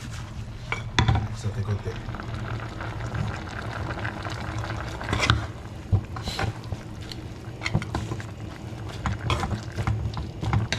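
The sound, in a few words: stirring black beans with pork ribs in a pot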